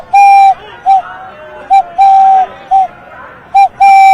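A man whistles an imitation of a dove's ghughi call, loud and close: a series of short and drawn-out pure tones separated by brief pauses, with no other sound around them.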